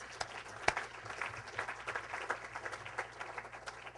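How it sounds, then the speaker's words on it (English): A conference audience at a democracy awards summit gives a round of applause: scattered, fairly quiet clapping heard at some distance, steady for several seconds with a few sharper individual claps. "Let's give them a little round of applause."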